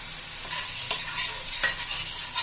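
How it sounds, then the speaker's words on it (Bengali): Spice paste of ground turmeric, cumin and coriander with salt, frying in oil in a pan for banana stem fritters, sizzling steadily while a utensil stirs and scrapes at intervals, close and alone. "আমাদের মশলাটা কষা হচ্ছে, এখনো তেল ছাড়েনি।"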